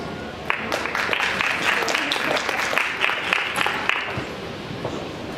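An indoor conference audience at a women in computing event claps steadily for a panel taking the stage, a dense, even applause that holds for several seconds before easing off slightly.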